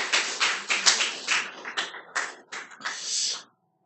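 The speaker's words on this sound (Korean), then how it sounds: "박수로 환영하겠어요" Short burst of hand clapping from a small indoor church gathering, a few seconds of brisk, uneven claps close by that stop abruptly, with no talking over them.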